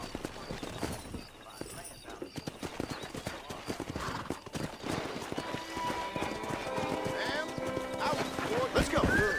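Rhythmic clip-clop of horse hooves trotting over ground in the video game Red Dead Redemption, steady and fairly close, with music and occasional voices layered over it.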